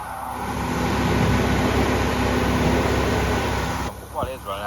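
Citroen Xantia V6 engine running steadily at close range, a dense even mechanical hum with fan-like whir, cutting off near the end into a few brief softer noises.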